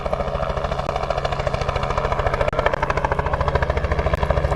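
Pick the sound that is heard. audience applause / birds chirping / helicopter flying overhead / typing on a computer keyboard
helicopter flying overhead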